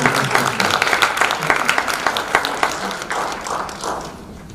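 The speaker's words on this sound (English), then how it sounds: "Can we give them one more round of applause?" Scattered clapping in a school board meeting room, sharp individual claps rising and thinning out before fading away near the end, with a faint voice underneath.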